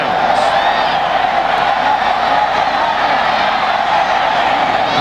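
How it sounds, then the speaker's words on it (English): Large football stadium crowd turning hostile at a 1997 Virginia Tech versus Miami college game, a loud unbroken roar of voices and jeers that stays steady throughout. "Boy, now the crowd is getting hostile."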